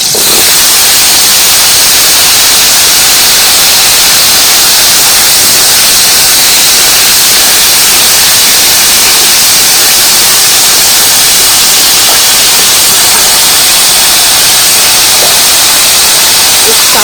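Papaya frying in hot oil, a loud unbroken hiss of sizzling that holds steady throughout.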